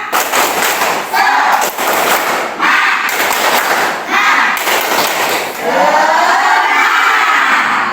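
Fifth-grade pupils at an Indonesian Islamic primary school stand and perform a rhythmic spirit clap, loud and close, in repeated bursts of patterned clapping separated by brief pauses.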